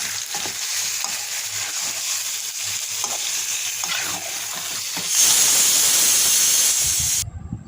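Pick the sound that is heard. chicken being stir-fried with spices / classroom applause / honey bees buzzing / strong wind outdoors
chicken being stir-fried with spices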